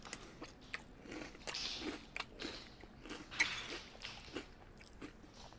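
Cinnamon Toast Crunch cereal being eaten close up, with repeated crisp crunching bites and chewing in an irregular rhythm, fairly quiet with no talking.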